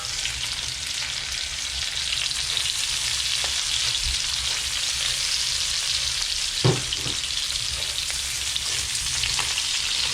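Chopped garlic and onion fry in a pan for pinakbet, a steady, close, loud sizzle running throughout with one brief utensil clink near the end.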